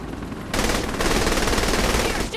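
Sustained automatic AK rifle fire in Saints Row The Third, a loud unbroken burst of rapid shots that intensifies after a brief quieter lead-in and runs nearly the whole time.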